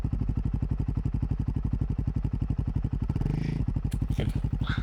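A BMW motorcycle engine throbs close by in a fast, even pulse of firing beats, then shifts near the end as some scraping and clatter come in.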